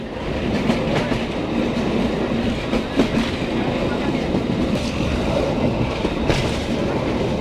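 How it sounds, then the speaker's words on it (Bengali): A commuter express train runs on rails between Rajshahi and Rohonpur, heard from on board as a loud, steady rumble with faint clattering wheel beats throughout. "দুইটা ট্রেন একসাথে ছেড়ে দিল আমরা দুইটা ট্রেন দুই দিকে যাচ্ছি এখন একসাথে"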